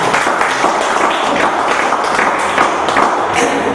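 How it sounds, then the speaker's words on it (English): Audience applause in a room after a speaker's self-introduction, a steady dense patter of many hands clapping throughout, fairly loud and continuous with no talk. "Ladies and gentlemen, please give me an applause."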